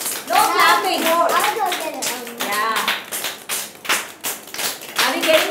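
Children tap their fingers to imitate falling rain in a classroom, the patter rising and fading in uneven bursts, with some clapping mixed in and children's voices talking over it.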